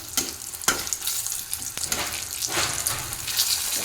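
Lentils dropped into hot oil and frying, a loud close sizzle that flares in bursts with clattering thuds of a utensil in the pan, no voices.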